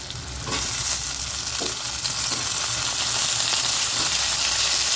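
Chopped tomatoes drop onto sliced onions already sautéing in oil for cauliflower kurma, and a loud, steady sizzle follows with a few stirring scrapes, close and unbroken, with no voices.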